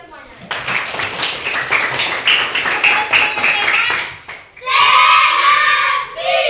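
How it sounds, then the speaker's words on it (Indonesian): Schoolchildren clapping together in a classroom, a quick run of rhythmic, close claps mixed with young voices, followed by a burst of children shouting in unison. "tepuk tangan dulu untuk kita semuanya"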